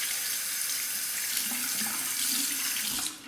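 Water runs steadily from a tap while a Parker 78R razor is rinsed under it, a close, even hiss that holds for a few seconds and then cuts off.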